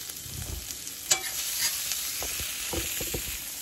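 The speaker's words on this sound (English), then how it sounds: "I'm gonna scramble some eggs and make him some toast" Eggs scrambled in a frying pan, a steady close sizzle with scraping and stirring strokes and a couple of sharp utensil clicks against the pan, no voices.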